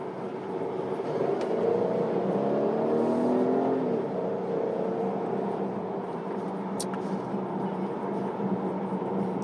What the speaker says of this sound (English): the acceleration is pretty brisk for such a large car